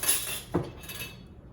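Metal canning jar rings clink together as they are put away for storage after drying, with one sharp close metallic clatter near the middle of a short, otherwise quiet stretch.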